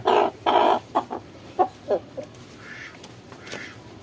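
A chicken clucks in a quick burst of loud, close calls, then a few shorter clucks trailing off, with faint background noise.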